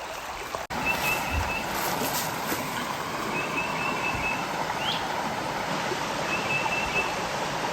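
A creek running up toward a waterfall makes a steady, broad rush of flowing water throughout, fairly close, with a faint high electronic beep recurring in the background.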